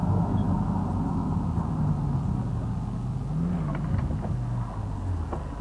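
A car approaches at high speed on a road at night, a steady low engine rumble with rising whir that holds loud throughout, no talk over it.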